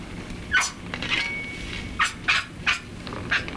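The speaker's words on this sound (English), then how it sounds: "Chicken's being butchered." A chicken squawks while being butchered, several sharp harsh cries in irregular bursts over a noisy background, fairly close.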